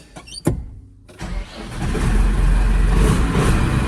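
A farm tractor engine cranks and catches, then settles into a loud, steady diesel rumble that runs on close by, with no talk.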